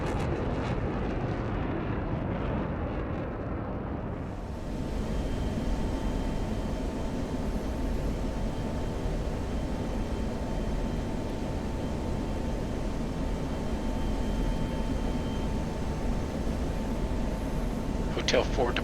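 An F-16 jet in a flight simulator roars on takeoff, a broad, loud, steady rush of engine noise that swells after a brief lull and holds throughout, with a faint whine riding on top.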